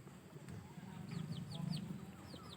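A breeding hen clucking in a Thai backyard flock, a moderately close series of short calls over a steady low murmur of farm background noise.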